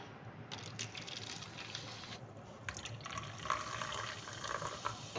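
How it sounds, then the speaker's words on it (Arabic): Fanta soda is poured into a cup, a soft close liquid stream with fizzing and splashing running steadily for a few seconds. "بالبداية نحط الفانتا"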